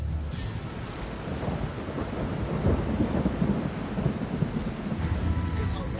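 Steady heavy rain with rolling rumbles of thunder, a dense continuous wash of sound building in the middle, with no voices.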